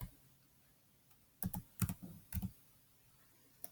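Typing on a computer keyboard: three short clusters of crisp key clicks in the middle of an otherwise quiet stretch, with one lone click near the end.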